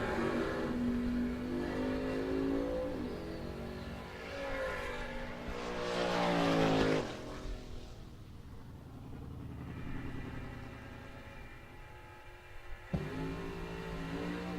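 Drag racing cars at a bracket series event launching and accelerating down the strip, engines revving and rising in pitch, then receding into the distance before another car roars in.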